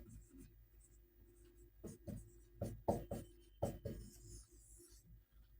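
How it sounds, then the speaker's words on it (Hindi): Pen or chalk writing by hand during a biology class lesson: a few short scratchy strokes in quick clusters, faint and close, with quiet room tone and a soft voice in the background. "यहाँ पे लिख देते हैं"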